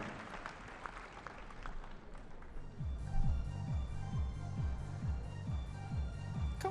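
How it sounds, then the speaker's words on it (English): Applause for the champions at a World Challenge Cup gymnastics event in Varna, distant crowd clapping under a rhythmic booming music beat in a large arena. "Huge applause for the champions."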